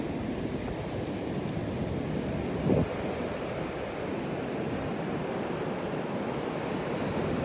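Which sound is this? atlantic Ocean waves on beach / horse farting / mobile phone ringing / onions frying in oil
atlantic Ocean waves on beach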